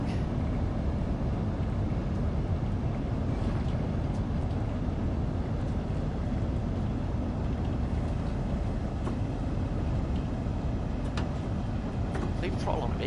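A high-speed passenger train on the South Eastern line in Train Sim World 2 runs with a steady, loud rolling rumble and faint squeals and clicks as it brakes.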